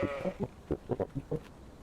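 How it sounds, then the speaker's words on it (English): Goats bleat in a horror video game, a string of short, nasal cries in uneven bursts over faint background game noise. "Heard the goats?"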